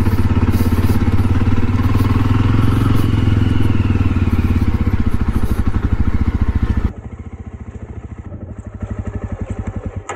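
A Jawa 42 motorcycle rides along a road past farmland, its engine roaring loud and steady up close, then dropping abruptly to a lower, quieter putter for the final few seconds.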